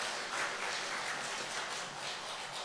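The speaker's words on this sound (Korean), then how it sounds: "박수 한번 보내주세요" A church congregation applauding the children during a Sunday worship service, a soft, even patter of many hands clapping, fairly distant and steady throughout, no talking.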